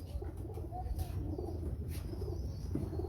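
Lal Pari pigeons coo softly and steadily over a low background rumble, with a few faint higher chirps scattered through.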